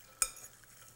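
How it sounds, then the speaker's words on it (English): Food tossed onto a hot barbecue pan for Moroccan barbecue, with one sharp hiss as it lands, then a fainter sizzle trailing off, heard close and alone. "Listen to that sizzle, huh?"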